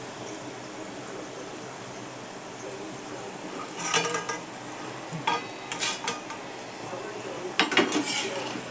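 Fried chana dal being scooped from hot oil into a metal strainer gives scraping and light metallic clinks in scattered bursts over a faint sizzle, close at hand.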